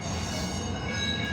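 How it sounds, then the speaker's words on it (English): A northbound train passes in Portland, Oregon, with a loud, steady rumble and high, sustained wheel squeal throughout. "there's a northbound train."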